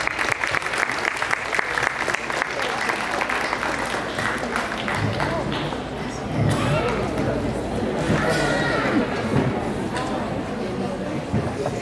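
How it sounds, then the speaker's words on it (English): Audience applause for a family called to the stage, continuous clapping throughout with some crowd voices and a few louder claps mixed in toward the end. "So big round of applause, please."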